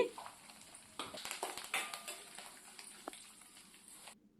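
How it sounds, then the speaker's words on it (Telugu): Dry red chillies frying in hot oil for a tempering, with a soft crackle and sizzle that carries on steadily, broken by a few louder pops and the scrape of stirring, then falling silent at the end. "ఇప్పుడు ఈ పోపు బాగా వేయించాలండి."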